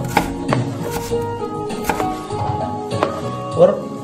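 A knife chops a fresh tomato on a cutting board, giving sharp, close knocks at an uneven rhythm, with someone speaking softly between the strikes.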